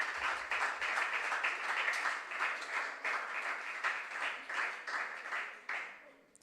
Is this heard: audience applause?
yes